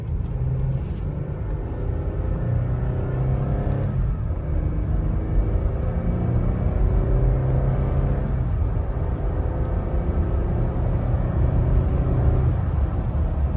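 A Jeep on 35-inch tires driving, a steady low engine and tire rumble from inside the cabin with gentle rises and dips as the automatic transmission shifts.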